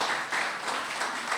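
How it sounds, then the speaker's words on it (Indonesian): A church congregation claps together during a Pentecostal sermon, a brief, dense burst of applause from many hands that fills the room evenly without any talking. "Tepuk tangan buat Tuhan Yesus."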